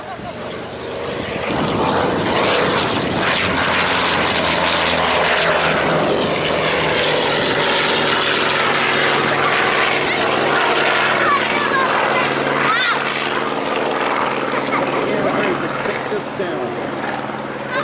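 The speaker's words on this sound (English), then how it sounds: "Here he is, the F-8F Bearcat." A Grumman F8F Bearcat, a World War II propeller fighter, makes a loud flyby with a roaring piston engine that builds and holds for many seconds. Its note sweeps as the plane passes, and an announcer's voice is faintly mixed in.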